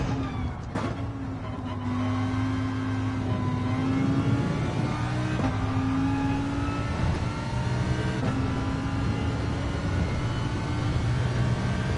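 A racing car engine in a video game drones loudly and steadily, with tones rising and falling through gear shifts and a sustained high whine, close and continuous without talk.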